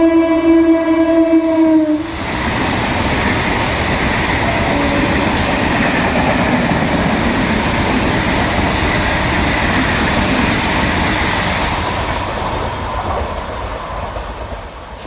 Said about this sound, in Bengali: তার জন্য EMU রেক নিয়ে যাওয়া হচ্ছে।